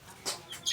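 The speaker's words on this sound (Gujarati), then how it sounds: "તો જો આ છે કબૂતર, આ ચીક્સ" Short bird chirps from a pigeon and chicks in a backyard coop, two or three quick high tweets rising in loudness, close by, with no talk.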